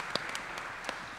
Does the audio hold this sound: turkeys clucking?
no